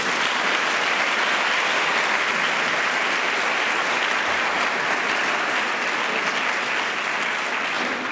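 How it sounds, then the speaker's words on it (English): Sustained dense applause from a large audience at a HeForShe anniversary event, a continuous even roar of many hands that holds steady throughout without speech. "So let's give them a round of applause"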